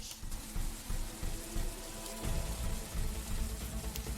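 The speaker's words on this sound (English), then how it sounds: "This rain is harmless to our base, but it decreases solar panel efficiency until it stops." Steady rain pattering across the surface in The Riftbreaker video game, a dense, even hiss of droplets with faint low rumbles beneath, continuous and moderately quiet throughout.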